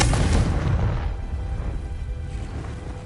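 A Confringo spell explodes in Hogwarts Legacy with one heavy, booming blast that rolls off into a long, fading rumble.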